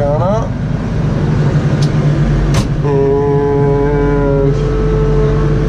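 A Kubota LX3310 compact tractor engine starts back up with a sharp knock and then settles into a steady, humming idle, close by, while someone talks over it.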